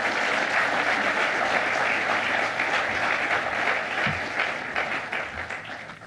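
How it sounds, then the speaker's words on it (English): Audience applause at a groundbreaking ceremony in Kigali, Rwanda: dense, steady clapping from a sizeable crowd throughout, easing slightly toward the end. "Help me with a warm round of applause as we welcome Andrew to the stage."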